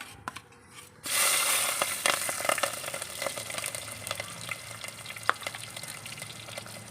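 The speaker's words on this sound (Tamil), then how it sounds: "இந்த சின்ன வெங்காயத்தை போட்டு கொஞ்சம் நல்லா வதக்கிக்கணும்" Chilli, tomato and ginger-garlic paste frying in a clay pot for quail curry, a steady close sizzle that bursts in after a quiet second and carries on with scattered stirring clicks and scrapes.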